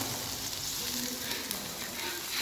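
Water hits a hot pan holding lime leaves and bay leaves, giving a steady, close, dense sizzle that holds evenly throughout without pause.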